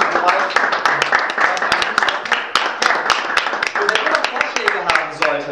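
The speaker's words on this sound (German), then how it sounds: "Einen großen Applaus nochmal" Dense clapping from a crowd, many hands at once, loud and sustained with voices mixed in.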